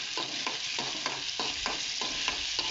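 Ginger-garlic paste sizzles steadily in a hot pan while a spoon stirs it in regular scraping strokes about twice a second, close and moderately quiet, with no talking.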